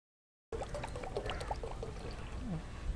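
Water is poured into a pot of boiled chana dal for payasam, a close, bubbling, gurgling stream that starts abruptly and runs steadily to the end.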